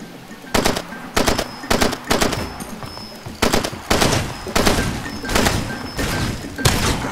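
Weapon fire in the video game Far Cry comes as about ten loud, punchy bursts spaced at fairly even intervals, each a cluster of sharp shots followed by a short decay.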